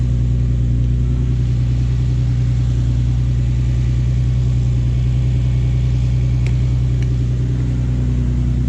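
A Nissan 370Z, just jump started, runs with a steady, loud, close engine rumble that holds an even idle throughout without speech.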